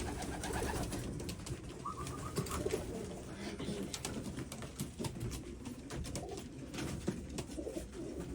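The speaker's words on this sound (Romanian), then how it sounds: "Da, un porumbel foarte bun." A pigeon at a racing-pigeon loft coos in soft, repeated low calls close by, with rustling and other birds faintly in the background and no talk.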